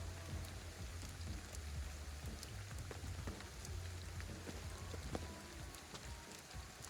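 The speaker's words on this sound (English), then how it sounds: "now it's raining" Steady rain falls in a video game, an even, close patter of drops on surfaces that continues without a break and with no voices.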